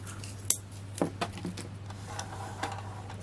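Craft paper trimmed during card making, a few short crisp snips and light clicks up close, fairly quiet over a steady low hum.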